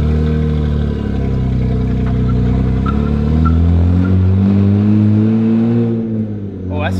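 A car engine with a downpipe and a cheap $20 aftermarket air filter accelerates, giving a loud, steady rumbling drone that rises in pitch over several seconds as the car pulls away, with a voice audible over it.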